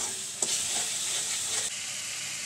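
Coriander, cumin and chili powder with tomato puree sizzle loudly in hot oil while being stirred, a dense continuous frying hiss up close with a few scraping accents and no talk.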